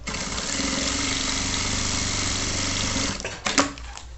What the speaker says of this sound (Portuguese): Já vou fazer uma costurinha de segurança nele aqui, tá?